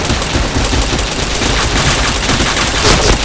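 Rapid automatic gunfire in the online shooter Point Blank, a dense, loud continuous burst of overlapping shots filling the clip, with no speech heard.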